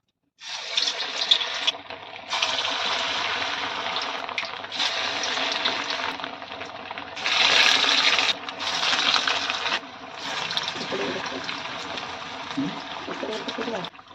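Bara, lentil fritters, frying in hot oil: a steady loud sizzle and crackle that swells in bursts as batter goes in, continuing throughout with a brief pause at the start.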